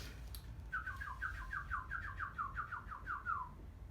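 A human voice imitates a bird striking a window glass, producing a rapid series of about a dozen short, chirpy clicks in a quick rhythmic burst lasting around three seconds, fairly close and moderately loud.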